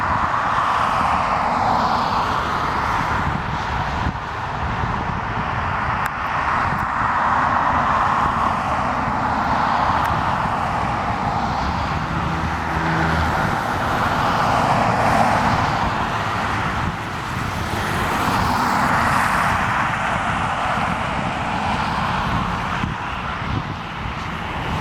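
United Airlines 737-800 jet engines rumbling as it moves onto the runway at Portland airport, a continuous loud roar with slowly swelling whine, heard from a distance with traffic-like background and no speech.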